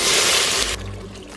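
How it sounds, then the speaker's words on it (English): Beef broth pouring into an Instant Pot over softened, browning onions: a loud hissing splash and sizzle that cuts off sharply partway through, leaving a quieter liquid rumble. "I'm going to add in my beef broth."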